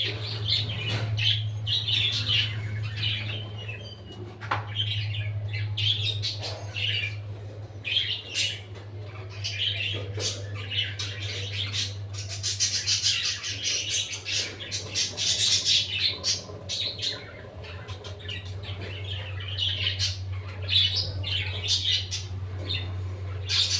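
Pet birds in a cage squawk and chirp in repeated bursts throughout, close by, over a steady low hum.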